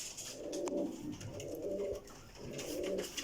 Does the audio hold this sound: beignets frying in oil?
no